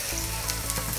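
Hot frying pan sizzling loudly with pad thai ingredients, a dense, steady crackle and hiss throughout with faint stirring clatter, close and alone.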